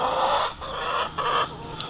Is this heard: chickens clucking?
yes